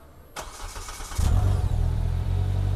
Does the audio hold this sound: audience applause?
no